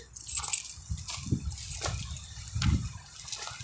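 A fountain in a Saudi village garden sprays water onto plants, making quiet, intermittent splashing and sloshing bursts at moderate distance.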